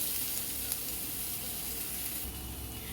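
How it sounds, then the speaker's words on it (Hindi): Onion sizzles and fries steadily in a hot pan with cumin and green chili, a continuous loud hiss with faint crackles, no voices. "इसमें मैं प्याज को डाल दूंगी। और प्याज को डीप ब्राउन नहीं करना है, केवल इसका रंग बदलने तक इसे मैं भूनूंगी।"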